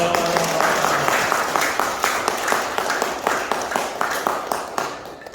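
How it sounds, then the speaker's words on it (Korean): An audience at a gathering claps in a steady, evenly spaced rhythm, sharp hand strikes repeating several times a second over a continuous wash of noise for about five seconds. "박수 한번"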